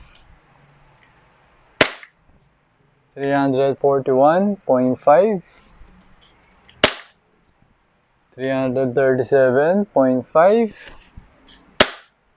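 A WE Custom Glock 17 airsoft pistol fires three sharp, loud, close shots spaced several seconds apart, with someone speaking between the shots.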